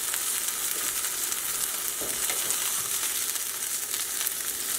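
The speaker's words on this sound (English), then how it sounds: "Frying nicely" A cod fillet sears in a hot pan, giving a steady, close, bright sizzle and crackle throughout, with a few faint scrapes and no voices.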